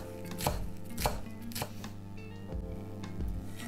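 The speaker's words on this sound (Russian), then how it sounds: "Зелень тоже мелко рубим и отправляем в салатник." A knife finely chops fresh cilantro, basil and dill on a board for a mayonnaise-free salad, about six distinct thuds spaced unevenly over a low background hum; no speech.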